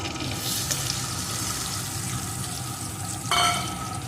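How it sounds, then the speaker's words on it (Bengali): Crab pieces dropped into hot oil for a mustard crab recipe crackle in a continuous close sizzle, with a brief metallic clatter near the end and no talking. "এখন আমি কাঁকড়ার টুকরোগুলোকে এর ভিতরে দিয়ে দেবো"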